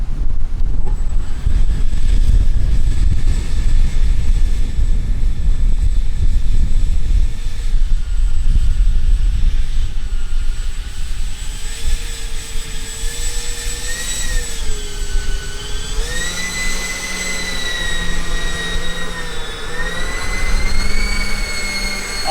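Two electric ducted fans on a model Airbus A380 whine steadily while the plane taxis, their pitch shifting up and down with throttle over heavy wind noise on the microphone, loud and close throughout.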